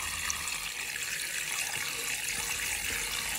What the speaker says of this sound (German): wascht den gründlich im Wasser, im kalten Wasser, richtig schön aus und siebt ihn ab